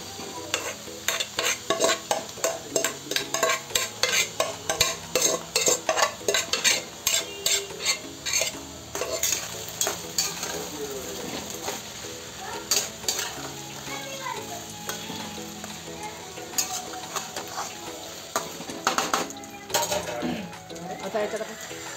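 Cooked rice already mixed with egg tipped into a hot pan and stirred for egg fried rice: rapid rhythmic clanks of a spatula against the pan over a constant sizzle, slowing later, with someone speaking at times.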